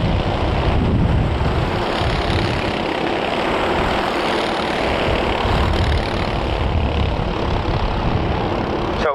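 Several racing kart engines drone loudly on an oval track during a Ninja Karts heat, a continuous buzzing roar with a commentator talking over it.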